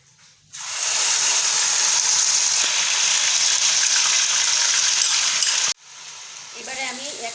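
Onion paste is added to hot oil for chicken kasha and bursts into a loud, hissing sizzle that lasts about five seconds, then cuts off sharply. A softer sizzle and faint scraping follow.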